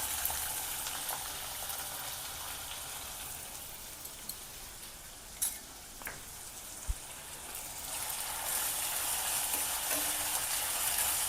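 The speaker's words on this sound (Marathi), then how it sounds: "कांदा चांगला असा परतून घेणार आहोत।" Onion sautéing in a pan with curry leaves and green chilli for a raw banana bhaji, a steady broad sizzle with faint occasional clicks of a spatula, no voices.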